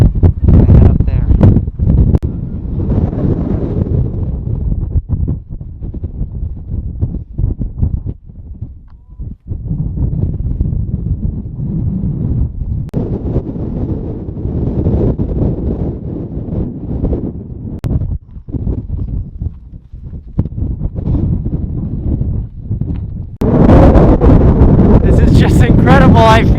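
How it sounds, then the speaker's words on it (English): Strong wind in Death Valley roars and buffets the microphone in loud, continuous gusts with rumbling low-end blasts, rising sharply again near the end, and a voice talks intermittently beneath it. "It's extremely windy."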